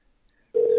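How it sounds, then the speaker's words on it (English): A telephone rings in on a live sports talk broadcast, a steady loud electronic tone that starts abruptly partway through and holds to the end after near silence. "Sorry, Tony, you're going to hear some ringing here"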